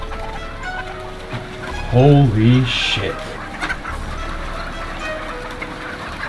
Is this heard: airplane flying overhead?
no